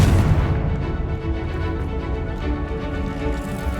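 A Confringo blasting spell detonates against a wall in Hogwarts Legacy, a loud booming burst up front that rolls into a sustained rumbling explosion with dense low-end crackle and no talking.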